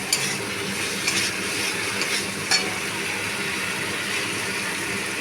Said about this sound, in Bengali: চিংড়ি মাছগুলো দিয়ে দিলাম। দিয়ে আবারও ভালোভাবে একটু নাড়িয়ে চাড়িয়ে কষিয়ে নেব।